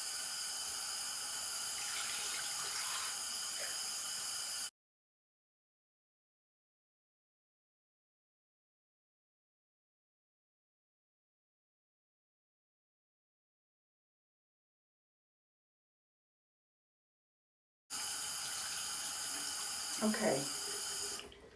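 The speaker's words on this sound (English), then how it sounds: "you're going to keep doing this until the water runs clear" A sink tap runs while a wig is rinsed under it, a steady splashing flow at the start and again near the end, with a long silent gap between and a brief spoken word.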